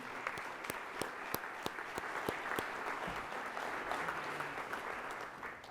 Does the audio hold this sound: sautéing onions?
no